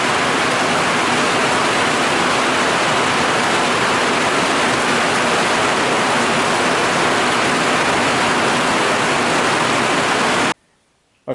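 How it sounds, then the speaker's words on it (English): Steady heavy rain pouring down outdoors at a windless shooting range, a dense continuous hiss and patter close by that cuts off abruptly near the end, no talking. "Well, we've got a nice rain coming down."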